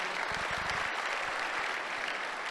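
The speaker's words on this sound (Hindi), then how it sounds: "एक बार जबरदस्त तालियां हो जाए उनके लिए" Applause from an audience at an Amway Diamond success celebration, a dense steady wash of many clapping hands filling the room throughout, with a brief low rumble near the start.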